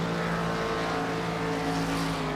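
Steady, loud drone of a Gen4 Cup Series race car engine at Homestead in a racing simulation, holding a constant high-revving tone throughout without a break.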